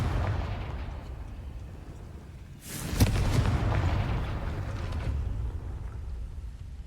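Confringo blasting-curse explosion in a Harry Potter video game: a sudden loud burst that rises out of steady background rumble, then a sustained booming roar that slowly fades.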